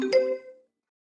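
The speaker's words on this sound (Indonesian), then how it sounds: "Teleponmu berdering." A mobile phone rings with one short bright electronic chime that rings out briefly and fades to silence, with no voices.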